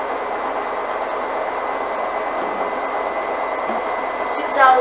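A Hoover washing machine spins at high speed, its drum giving a steady, close whooshing roar with a low pulsing thrum underneath.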